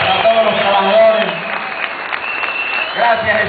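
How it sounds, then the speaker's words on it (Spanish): Applause from a crowd gathered to honor institutional workers, including staff of Cantv, a dense steady clapping wash at close range with voices mixed in. "Un aplauso para ellos, para todos los trabajadores."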